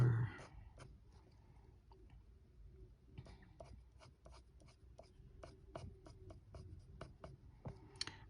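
Dark umber colored pencil scratching across paper in short, repeated strokes, close and quiet, with brief pauses between bursts of coloring.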